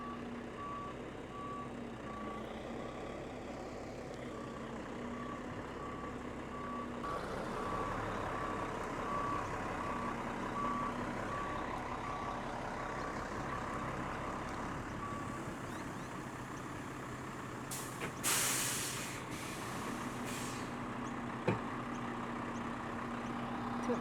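A truck reverses up a gravel driveway to tip stones, its steady high reversing beeper repeating over a low idling diesel rumble, with a brief clatter near the end and no voices.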